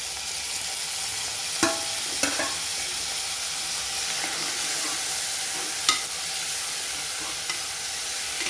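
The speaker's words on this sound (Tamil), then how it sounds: "தக்காளி நல்லா வதங்கட்டும்." Tomatoes fry for vegetable kurma in a pan, giving a steady, bright sizzle with occasional clacks from stirring, close by and uninterrupted by speech.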